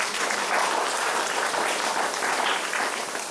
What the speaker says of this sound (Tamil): கைதட்டுகளை பார்ப்போம்.